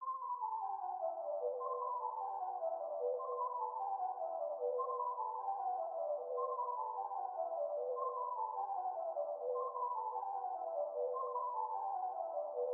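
A synth pluck arpeggio from Electra X cycles in steady descending runs, bright and even, repeating without a break at a moderate level.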